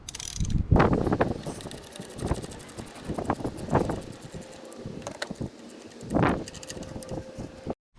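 Ratchet clicks and metallic tool noises from removing a spark plug on a 2005 Toyota engine, with several louder bursts of close mechanical clatter and knocking.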